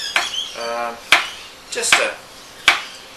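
A knife chops a small garlic clove on a cutting board for a pie floater, giving four sharp, close taps spaced about a second apart, with short bits of speech in between.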